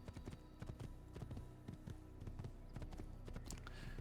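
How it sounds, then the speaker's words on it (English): Horse hooves clip-clop in a quick, steady galloping rhythm while riding in Assassin's Creed, fairly close and even throughout, with a faint background bed of game ambience. "I'm riding a horse."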